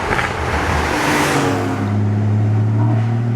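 A Porsche Boxster GTS engine pulls hard while driving, revving up loudly and then settling into a steady, deep drone close by.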